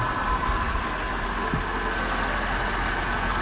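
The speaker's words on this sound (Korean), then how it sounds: "엔진 소리가 특히 깨끗하다는 거 V8 엔진" A V8 engine in a Mercedes-Benz S550L idles steadily, a smooth continuous low rumble with no other sounds over it.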